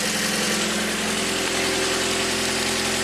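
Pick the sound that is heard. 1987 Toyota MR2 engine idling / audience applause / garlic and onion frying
1987 Toyota MR2 engine idling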